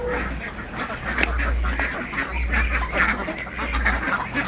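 A flock of ducks quacks continuously at a roadside duck farm by a highway, many overlapping calls close by over a low rumble of passing traffic.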